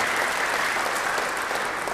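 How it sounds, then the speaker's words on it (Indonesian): Church congregation applauding at a worship service, a steady dense wash of many hands clapping together, even and sustained throughout with no gaps. "Beri tepuk tangan yang baik bagi dia."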